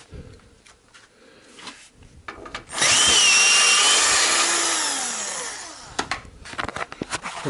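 A power tool unscrews a bolt under a Renault Logan 1.4–1.6 8-valve, one loud sustained whirring burst lasting about three seconds that winds down, framed by light clanks and handling noises.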